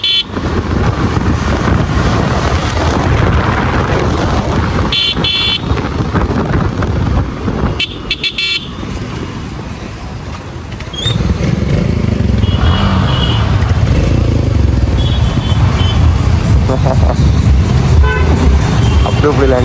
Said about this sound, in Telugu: అక్కడ ట్రాఫిక్ అని ఇక్కడ కూడా ట్రాఫిక్